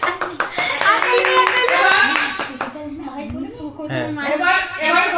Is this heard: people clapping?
yes